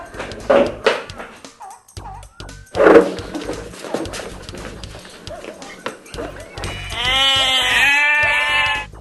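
A goat bleats in loud, wavering cries near the end, after stretches of people talking and scattered animal noises nearby.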